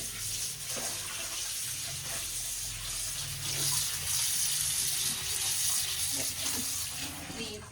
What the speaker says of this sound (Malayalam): ഇനി നമുക്കിത് കഴുകി എടുക്കാട്ടോ.